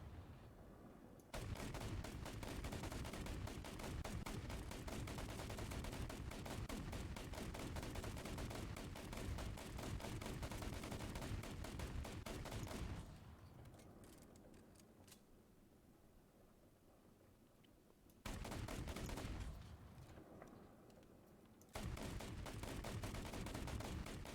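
Rapid, dense gunfire from a weapon in the War Thunder video game rattles continuously and loudly, breaks off for several seconds, then resumes in two more sustained bursts.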